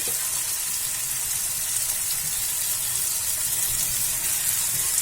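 Paneer cooks in a pan of fried masala, giving a steady, even hiss of frying that stays close and moderate throughout, with no voices.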